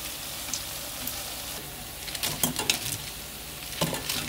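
Spicy cassava cakes sizzle in hot oil, a constant frying hiss broken by a few brief scraping, clattering bursts as the pan is worked, with no voices.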